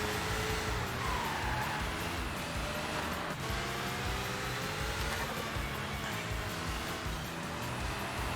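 A Camaro racing in the Sega GT game, a continuous loud engine roar with rising and falling revs and tire noise, steady throughout with no talk.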